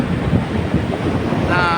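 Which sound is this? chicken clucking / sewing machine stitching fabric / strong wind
strong wind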